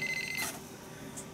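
An alarm system keypad gives a short high electronic beep when its button is pressed, a clean steady tone lasting under half a second, then a faint brief chirp follows amid low room noise.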